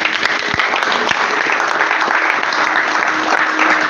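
A church congregation applauding during a sermon, dense loud clapping from many hands held steadily for several seconds, with occasional sharper claps standing out.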